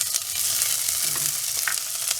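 Curry leaves crackle and sizzle in hot oil for a mutton white kuzhambu, a steady broadband frying hiss with a few sharp pops and light stirring scrapes, close and continuous with no talking.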